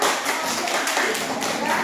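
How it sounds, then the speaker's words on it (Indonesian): A burst of group applause from schoolchildren in a primary classroom, many small hands clapping together steadily and close by, dense and fairly loud throughout. "Tepuk tangan semuanya."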